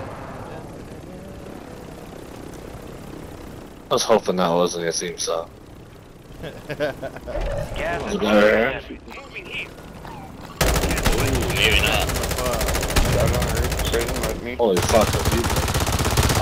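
Helicopter swooping past with bursts of machine-gun fire in a video game, loud rattling gunfire in the second half, with excited player voices and talk throughout.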